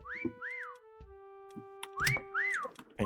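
During a hide-and-seek game, rising and falling whistled notes sound close and fairly loud, twice in quick pairs with brief gaps, alongside a few soft knocks and thumps.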